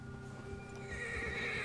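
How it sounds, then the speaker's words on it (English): An agitated horse in Red Dead Redemption 2 neighing in a short rising whinny over faint hoof clip-clop, fairly quiet and alone. "Quando o predador está por perto do cavalo, fica agitado"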